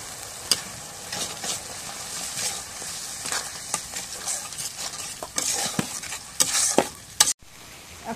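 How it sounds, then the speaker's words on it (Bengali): Fish curry spice mix frying and being stirred in a pan, with steady sizzling and repeated scraping stirs and a few sharp clinks of the utensil against the pan, close and continuous. "এখন মশলাটা কষানি হয়েছে"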